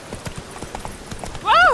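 Roach, a horse in The Witcher 3, gallops with quick, steady hoofbeats that end in a loud, close whinny.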